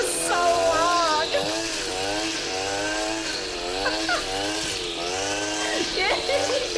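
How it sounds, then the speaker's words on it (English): A lawnmower engine runs loud and steady throughout, its pitch rising and falling in repeated revving surges. "This is a man with a lawnmower."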